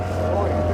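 A speedboat's large engine drones steadily and loudly for under a second, a continuous low hum with a strong steady tone, with people talking over it.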